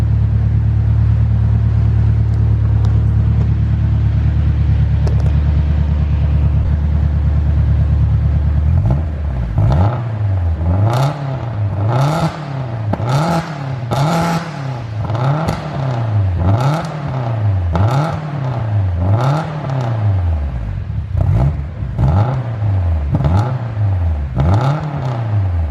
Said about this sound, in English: I'm going to give it a quick rev for you guys so you can hear what she sounds like